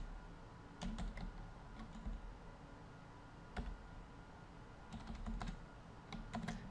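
A username is typed on a computer keyboard in short bursts of clicking keystrokes with pauses between them, close and fairly quiet, with no speech.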